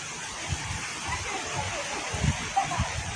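A waterfall in the Blue Mountains produces a steady, broad rushing hiss of falling water, heard at a distance with a few low gusts and bumps near the microphone.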